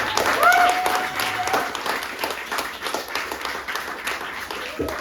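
Audience applause at a political talk, steady dense clapping throughout with a few whistles and stray voices mixed in, moderately loud and continuous.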